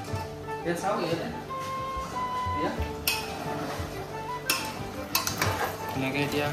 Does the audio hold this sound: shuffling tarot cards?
no